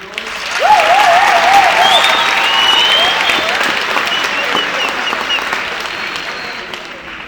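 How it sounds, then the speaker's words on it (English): Sustained applause from a large audience fills the space, steady and loud, with a brief whistle or cheer near the start. "You can also give them a big round of applause."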